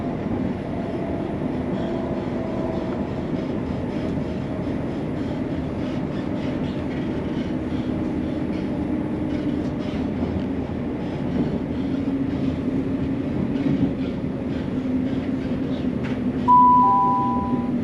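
A passenger train runs between Edinburgh and the Forth Bridges with a steady, loud interior rumble and faint rhythmic wheel clatter throughout, then a brief two-tone chime near the end.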